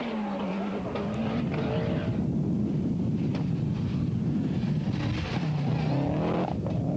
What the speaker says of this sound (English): The Subaru seemingly well suited to the fast roads here on the island.